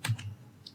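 TypeScript code is typed on a computer keyboard: a couple of quick, close key clicks followed by a single lighter tap, quiet and alone.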